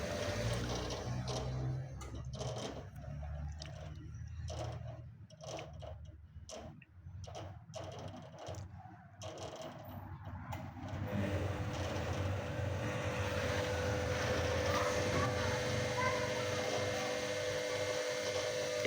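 A Daewoo washing machine with a carbon-brush motor, under repair for a B1 error, runs with water being pumped out. Steady ticking comes first, then a louder continuous hum and whir takes over, with no voices.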